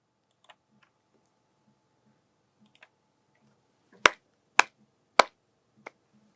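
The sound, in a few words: hand clap sound being recorded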